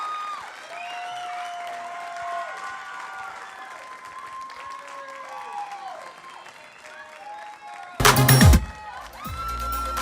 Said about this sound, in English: Please keep that round of applause going as they go backstage and come out for one more time.